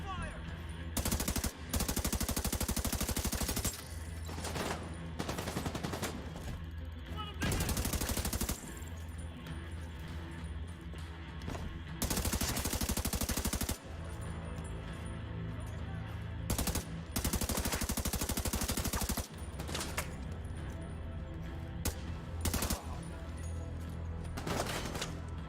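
Heavy, sustained machine-gun fire from a video game, bursts rattling nearly nonstop with brief pauses between volleys and a faint voice occasionally underneath.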